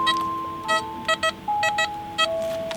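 A metal detector sweeping a field gives a series of short electronic beeps and tones of varying pitch, several quick bursts with gaps between, clear and close over a quiet background.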